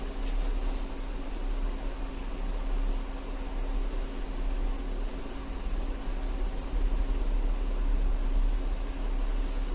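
A Galaxy GV-200 digital viscometer motor runs with a steady low hum and a constant airy whir, holding evenly throughout, close and alone.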